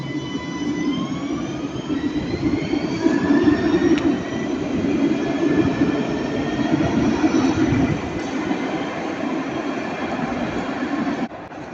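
Nice tram running fast, up to about 70 km/h, through a tunnel section: a loud, continuous rumbling roar with rail squeal and whine layered on top, close and steady throughout, no voices.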